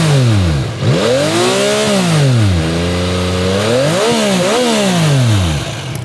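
Yamaha XSR900 three-cylinder motorcycle exhaust revved repeatedly while stationary, engine pitch sweeping up and falling back several times, loud and close with no talking.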